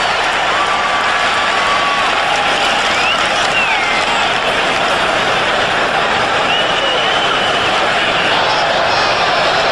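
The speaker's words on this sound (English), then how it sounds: "The Rams applauding." A stadium crowd at a 1996 NFL game between the Green Bay Packers and the St. Louis Rams applauds in a dense, steady wash of clapping and roar that stays constant throughout.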